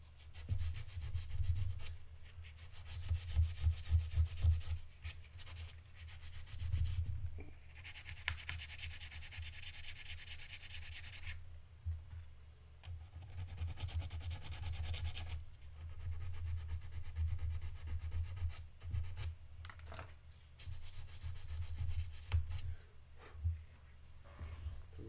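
Primer on a Bushi Silver Surfer figure is scuffed with steady, close rasping strokes that swell and pause in long passes, with no talking.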